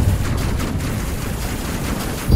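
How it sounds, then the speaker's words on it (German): Gunfire in the space combat game Space Crew, a dense, continuous rattle of rapid shots and blasts that stays loud for the whole stretch, with no voice over it. "Jetzt schießen doch alle viel schneller."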